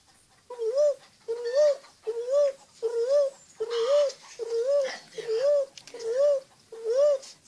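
A human voice imitates a dove's coo, repeating a soft warbling call about nine times in a steady rhythm, close and clear.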